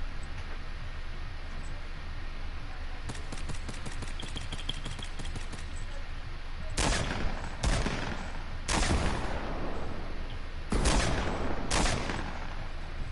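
Bursts of heavy AK assault rifle fire in a video game, a rapid rattling volley early on followed by several loud separate bursts spaced a second or so apart, fairly close.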